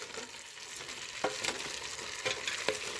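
Vegan bean stew with okra being stirred and turned in a pot, a soft continuous scraping and bubbling with a few louder spoon knocks, close and steady.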